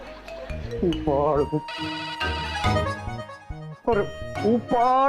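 A telephone rings with a bright repeating electronic ringtone, fairly loud and close, interleaved with people talking over and between the rings.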